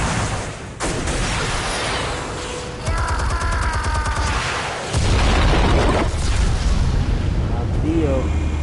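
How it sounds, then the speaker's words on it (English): Explosives detonate in Batman: The Telltale Series, a loud booming blast with rumbling debris that keeps roaring for several seconds, and a second heavy burst hits midway through. "Explosives armed. Fire when ready."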